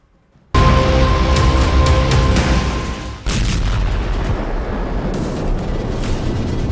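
A sudden loud boom erupts from silence, followed by rumbling and a second heavy blast, with sharp crackling bursts trailing after, from explosions at night in Caracas, Venezuela, during a US attack.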